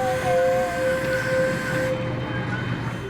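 An amusement park train ride rolls along with a steady, loud mechanical rumble and a sustained whistle-like tone, the noise continuous throughout with no talk.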